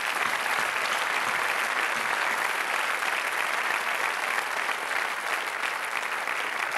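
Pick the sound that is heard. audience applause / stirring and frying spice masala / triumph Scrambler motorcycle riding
audience applause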